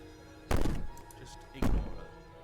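Two heavy, booming bangs on a door in the video game Slay the Princess, spaced about a second apart, each loud and close with a short resonant decay, over a faint low background hum.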